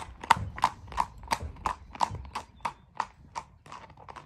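Hoofbeats of a four-year-old Saddlebred gelding ridden bareback on slick shoes, a steady run of about a dozen sharp clip-clop strikes close to the microphone, evenly spaced and fading slightly toward the end.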